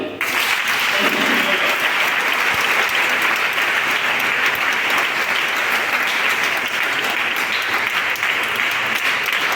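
Church congregation giving loud, sustained applause, a dense wash of clapping throughout with voices mixed in.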